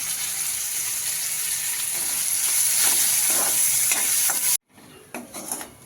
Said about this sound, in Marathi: आता यामध्ये टाकू आपण कांदा कांदा चांगला परतून घ्यायचा आपल्याला